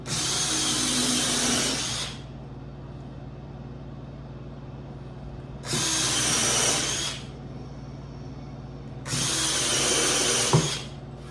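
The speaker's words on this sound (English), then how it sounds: "I'm drilling about 1/8 inch off of it." A power drill whirs through wood of a beehive bottom board in three bursts of a couple of seconds each, loud and close, with quiet pauses between.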